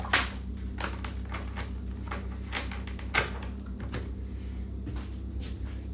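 Oracle cards being shuffled, a series of soft, brief papery flicks and slaps at irregular intervals, close and fairly quiet against a low background hum.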